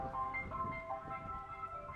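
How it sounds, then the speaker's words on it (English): A big ice cream van plays a music-box style jingle, thin tinkling melody notes sounding steadily but fairly faint, with no talking. "found the tunes from ice cream vans were rather funny and somewhat out of character"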